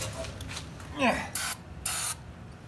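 Starting fluid hisses out of an aerosol can into the engine of an old Farmall Cub tractor, two short sharp spray bursts following a brief rustle.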